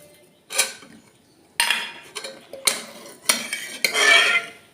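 Ginger and fennel paste mixed with sugar, turmeric and green chilli in a bowl, producing a series of sharp clinks and scrapes of a spoon against the dish in irregular bursts.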